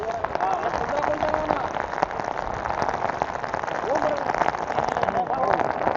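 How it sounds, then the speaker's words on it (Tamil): Steady heavy rain hisses across the whole clip near Mandalpatti Peak in Coorg, India, dense and continuous, with indistinct voices faintly audible beneath the downpour. "சரியான மழை."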